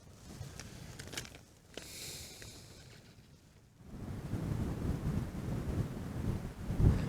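Wind gusts across open Finnish wilderness fells on a warm sunny day, buffeting the microphone with low rumbling noise that swells and fades, then grows steadier and stronger in the second half.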